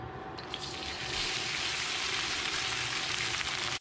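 Basmati rice, about five to six cups, tossed into a hot pan for fried rice with beef, giving a steady close sizzle and hiss that holds for several seconds before cutting off abruptly.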